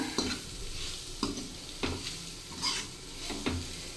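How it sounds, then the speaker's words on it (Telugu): Egg curry with garam masala is stirred in a frying pan, a spoon scraping and clinking every half second or so over a quiet, continuous sizzle. "గరం మసాలా పచ్చి వాసన పోయేంత వరకు అయితే కలపాలి"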